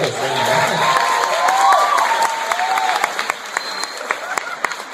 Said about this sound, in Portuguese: Vou dar um aplauso aí pro cara, né?